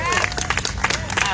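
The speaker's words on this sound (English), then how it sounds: "Mayor Michelle Wu, applause" Audience applause at a Women's Equality Day 2023 event, greeting the Mayor of Boston, with a burst of clapping mixed with a speaking voice over it, fairly loud and close.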